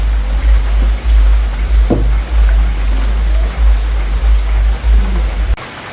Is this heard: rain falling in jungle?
yes